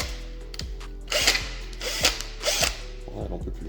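A cordless drill on a nearly dead battery drilling: a strained, low motor whine with repeated short bursts and stalling ratchet-like clicks, loud and close, with no voices.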